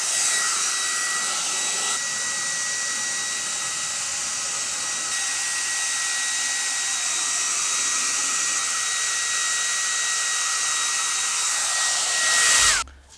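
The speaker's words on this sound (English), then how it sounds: "I'm going to just use a quick blow dryer just to heat up the area" Blow dryer heating the adhesive of a 3M door handle cup protector on a car, a loud steady whirring hiss held for about twelve seconds, cutting off sharply at the end.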